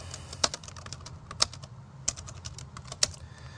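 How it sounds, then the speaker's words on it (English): Fingers type on a computer keyboard while writing into a Skype chat box, a quiet run of light key clicks with a few sharper, louder strokes spaced about a second apart. "And I can type something."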